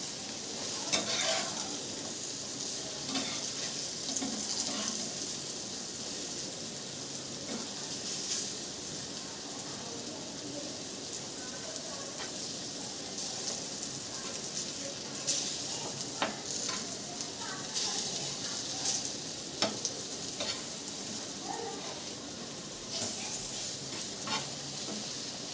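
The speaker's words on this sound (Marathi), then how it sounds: "छान अशी मच्छी फ्राय झालेली आहे." Fish frying in a pan over lowered gas heat sends out a steady, dense sizzle with scattered crackles and spits throughout, close and continuous with no talking.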